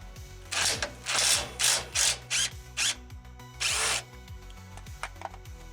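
Impact wrench or power driver working bolts loose on a van's front suspension: about seven short, loud whirring bursts of varied length separated by brief pauses, with faint ratcheting and mechanical clicks between them.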